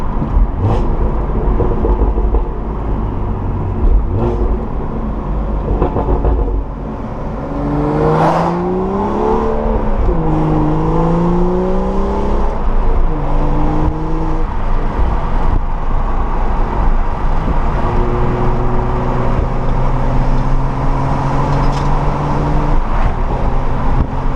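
Catless BMW N55 engine in a manual car, a loud, raspy exhaust drone that rises and falls through several revs, with rising pitch sweeps mid-clip and a steadier cruising tone later, heard from inside the car.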